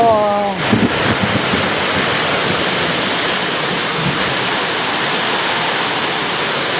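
Heavy rain pours in a loud, continuous close roar that stays even throughout, with a brief voice at the very start.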